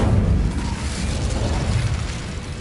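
An Incendio fire spell cast in Hogwarts Legacy lets out a steady, heavy whooshing roar of flame with a deep rumbling low end, loud and continuous throughout.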